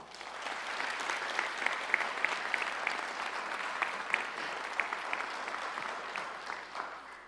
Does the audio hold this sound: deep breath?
no